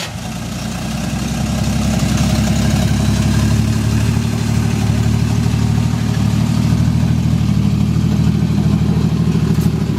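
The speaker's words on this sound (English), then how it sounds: "Just rev it up and see what it does." A car engine in first gear with the brake held runs loud and steady for the whole stretch, a sustained low, rough drone that holds its pitch without clear rises.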